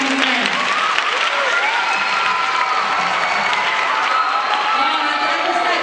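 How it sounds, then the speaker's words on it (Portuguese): At a formal ceremony, a crowd gives a dense, continuous round of applause that stays steady and fairly loud from start to finish, with faint voices mixed into the clapping. "Uma salva de palmas para ela."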